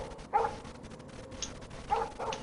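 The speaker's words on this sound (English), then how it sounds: "No barking." A dog in the video game Life is Strange gives a few short barks near an RV, one around the half-second mark and a pair toward the end, over a low ambient game background.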